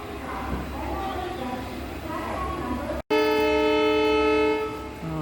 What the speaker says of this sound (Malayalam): ട്രെയിൻ ചിഹ്നം വിളിച്ചു.